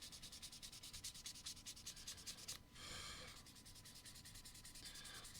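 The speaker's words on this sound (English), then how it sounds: "I am sanding the backpack or the arms that actually hold, believe it or not, some of the bit system for this Gunpla" A small plastic Gunpla model kit backpack part is hand-sanded in quick, rhythmic strokes, a close, quiet scratchy rubbing with a brief pause and change in texture midway.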